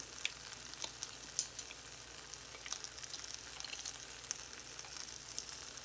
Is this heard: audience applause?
no